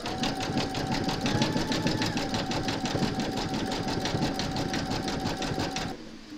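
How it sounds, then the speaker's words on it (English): An embroidery sewing machine zigzag-stitches along an appliqué join on a large quilted Mrs Claus design, running as a loud, steady rapid mechanical chatter close by before stopping near the end. "stitch round number 7, and that's going to zigzag along this join here and join the two pieces together"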